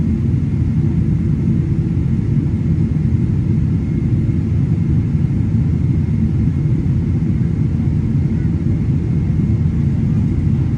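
Steady, loud airplane cabin drone while the aircraft circles above Istanbul Airport waiting to land, a constant low rumble with no break throughout.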